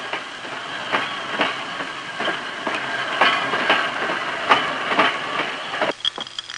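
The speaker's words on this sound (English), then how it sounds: "The first train leaves the station." Train pulling out of a station in Tel Aviv, a steady rolling rumble with repeated wheel clicks and clatter over the rails, fairly close and continuous, easing slightly near the end.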